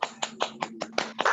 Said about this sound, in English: give yourselves like a huge round of applause